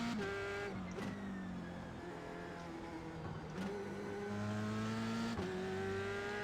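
F3 race car lapping the Nurburgring in iRacing, a close in-car engine whine rising through the gears with brief dips at shifts and a steady high drone between, alone with no talk.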